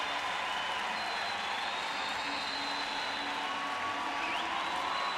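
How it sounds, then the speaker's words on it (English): Crowd at a Paralympic swimming race cheering steadily as the last two swimmers finish in the pool, a broad, constant roar with hints of clapping filling an echoing arena. "what you can hear is a huge cheer for the 2 remaining athletes in the pool"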